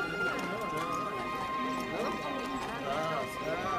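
Horse hooves clip-clop steadily in a dubbed Western film scene, with a horse whinnying and voices talking over the dense, busy mix.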